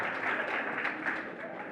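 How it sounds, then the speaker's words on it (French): A crowd at a youth forum in Kankan claps in a dense, even wash of applause, loud and sustained throughout the short stretch with no pause. "Applaudis."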